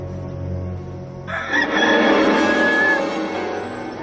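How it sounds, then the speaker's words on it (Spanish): A rooster crows once, loud and near, its long drawn-out call rising over a quiet background hum and lasting about two and a half seconds. "Y al instante cantó un gallo."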